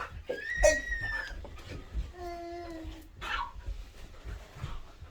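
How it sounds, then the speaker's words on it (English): A dog whimpers and whines in high, wavering cries, with brief yelps between, close by and moderately loud. "get this dog away from me"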